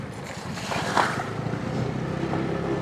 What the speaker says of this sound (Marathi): उडवलं पाणी।